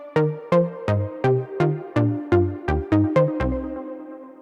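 Two layered analog synthesizers, a high part and a mid part playing together in a rhythmic sequence of about ten plucky, sharply attacked notes that decay quickly, ending on a lower sustained tone.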